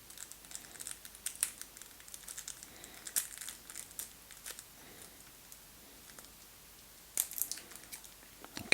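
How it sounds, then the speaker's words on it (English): Plastic packaging on a trivia game box is forced open, faint crinkling and scattered sharp cracks and snaps over a quiet room, with a couple of louder pops near the end. "After a short struggle, I've broken over the plastic"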